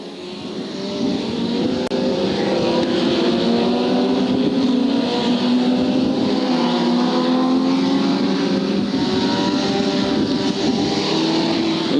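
Formula 2 stock cars race at Hartlepool, a loud, continuous engine roar from a tight pack with rising and falling pitch as the cars pass, with no talk over it.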